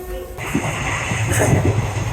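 A train rumbles and clatters nearby at a railway station, a low steady roar with faint metallic rattling, no voices standing out.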